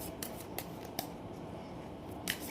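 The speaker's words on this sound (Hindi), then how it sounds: "जब तक मैं कार्ड शफल करती हूँ" Tarot cards being shuffled by hand give a few sharp riffling snaps over quiet room noise, close and fairly soft, with no speech.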